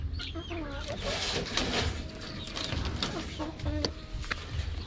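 Several chickens cluck and squawk close by in short, irregular bursts over a noisy background, with a voice now and then.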